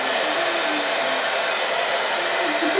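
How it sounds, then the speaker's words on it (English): A handheld hair dryer blows with a steady, loud, unbroken rushing whoosh throughout, close to the microphone with no voices. "now you use the hairdryer."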